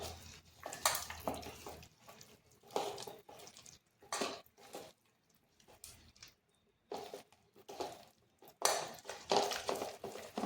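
Jackfruit pitha batter with milk being beaten in a bowl, a rhythmic series of scraping, clinking strokes against the dish that come in short bursts with brief pauses, close and moderately loud, with no talking.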